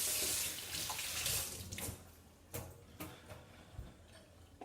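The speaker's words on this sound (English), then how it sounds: "I'm going to wash under the tap" Cold tap water runs over sloes being washed by hand in a sink, giving a soft, fairly quiet splashing stream with a few louder splats and knocks as the fruit is moved about.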